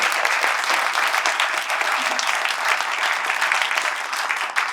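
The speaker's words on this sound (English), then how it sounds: "So please, a round of applause." An audience at a health system's social justice awards ceremony gives a round of applause, loud, dense and even clapping from a large crowd that carries on for nearly five seconds.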